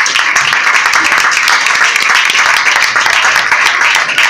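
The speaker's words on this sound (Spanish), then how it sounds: "por favor, otro aplauso" Applause at an award ceremony honoring a boxer from Bilbao, a loud, dense burst of many hands clapping close by, sustained evenly without pause.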